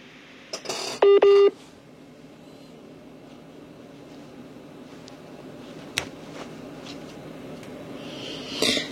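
Phone tones sound as a call tries to reconnect: a short burst of dialing beeps near the start stands out, followed by faint background hum with a sharp click and another brief tone later.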